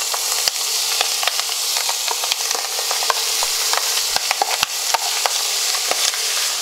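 Pieces of chicken liver fry in a very hot pan, giving a steady, loud sizzle scattered with sharp crackles and pops, with no voices.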